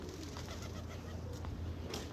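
Soft, low pigeon cooing repeats over a constant background hum, fairly faint and at a distance.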